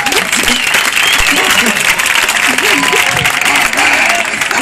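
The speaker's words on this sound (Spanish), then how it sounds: "Un fuerte aplauso para él, señores y señores." Audience applause for a comedian at a live Spanish stand-up comedy show, dense steady clapping filling the room from start to finish, with a voice and scattered laughter mixed in underneath.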